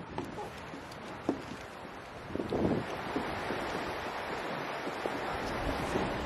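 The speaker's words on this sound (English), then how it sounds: "now I can't hear any traffic. I can only hear the stream" Stream of the Water of Leith flowing through Dean Village in Edinburgh, a steady broadband rush of moving water with a wind-buffeted, outdoor texture and a slightly louder swell midway, no voices.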